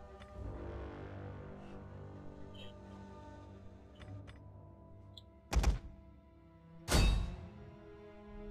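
Ballistas shooting in the strategy game Rome 2, heard as two sharp, loud thunks a little over a second apart, standing out over a steady rumbling game soundscape of battle ambience and music.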